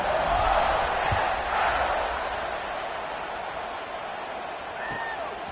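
Stadium crowd at a college football game roars steadily just before kickoff, a broad sustained wash of cheering that stays loud throughout with scattered whistles and shouts.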